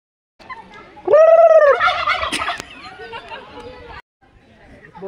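A turkey lets out a loud, close rolling gobble, followed by softer chattering calls from the flock, and a person talks nearby.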